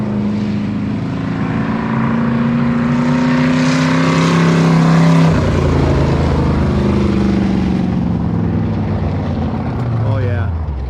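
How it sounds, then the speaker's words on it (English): Hobby stock race car hotlapping on a slick track, its engine droning loudly and continuously with a rising and falling pitch as it circles, a voice speaking over it. "So he's just up here driving,"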